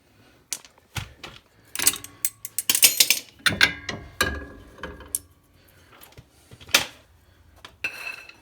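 Tools working on a strut nut on a Honda Ridgeline front end, a close series of sharp metallic clicks and ratcheting bursts in irregular clusters with short pauses between.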